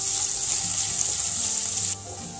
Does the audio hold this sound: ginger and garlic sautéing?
yes